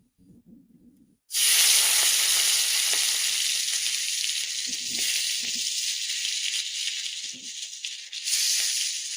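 Large prawns frying in hot oil in a home kitchen: a loud, steady sizzling hiss starts abruptly and runs on close-up with small crackles, no voices.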